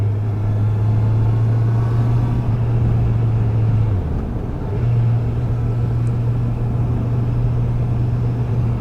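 A Honda CB650R, a black 35 kW A2-restricted motorcycle, drones steadily while being ridden toward the mountains, a loud, constant engine hum with a brief dip midway before resuming, wind rumble throughout.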